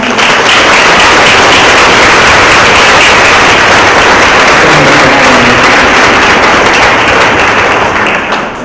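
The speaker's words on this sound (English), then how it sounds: "Give them a round of applause." Loud, sustained applause from a university audience for speaker series presenters, a dense, even wash of clapping that fills the whole stretch before tapering slightly at the end.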